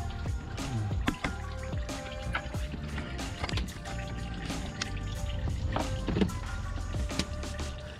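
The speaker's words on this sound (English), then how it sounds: "you'll see what's left of the antifreeze pour out of the engine block" Leftover antifreeze pouring and dripping out of a car engine block after the water pump is pulled, a continuous close splashing trickle with scattered drips and small knocks.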